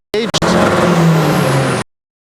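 Drag racing truck at a Thailand racing event launching off the line, a loud broad engine roar starting abruptly after two short bursts, holding steady for about a second and a half and then cutting off to silence.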